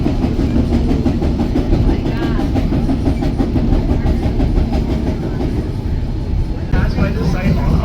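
A narrow gauge train car rattles and rumbles continuously along its track, a steady close clatter with a voice speaking over it throughout.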